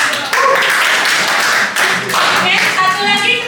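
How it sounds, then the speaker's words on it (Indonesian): A classroom group of students claps hands together in a dense burst of steady applause, mixed with murmuring voices and a few brief calls. "Oke, ya tepuk tangan buat kelompok."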